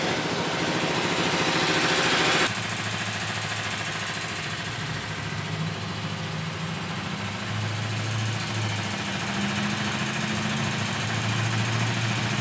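Lexus GX470 running on a test drive, a steady low engine drone with road rumble throughout, a brighter noise burst at the start, no talking.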